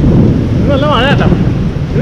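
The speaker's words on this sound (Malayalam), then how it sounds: "നല്ല മഴ വീണ്ടും വന്നേ, ഭയങ്കര മഴ." Heavy rain pours in a village area inside Kuala Lumpur city, a loud, steady, dense roar that fills the whole stretch, with a few brief wavering tonal sounds partway through.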